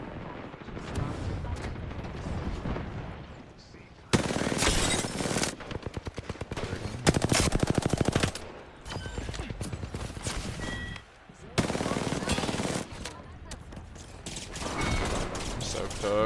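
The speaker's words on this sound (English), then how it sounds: "There's just so many people shooting at me" Heavy gunfire in a competitive shooter video game: dense bursts of rapid shots from many enemies aimed at the player, loud and near, crackling in long stretches with brief lulls, under a voice talking.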